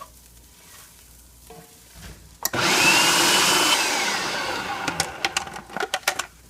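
A kitchen blender purees a sauce for a zucchini bake: the motor roars on loudly for a few seconds, tapers off, then sputters through several short pulses.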